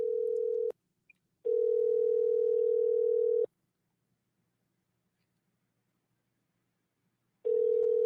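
A telephone ringback tone sounds while a call is placed, steady tonal beeps in a long-on, long-off pattern with silent gaps between, clear and alone.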